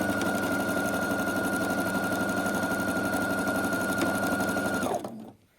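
Quilt blocks run through a sewing machine in a loud, continuous, fast-humming stitch with a rapid mechanical rhythm that holds steady for about five seconds, then winds down and stops.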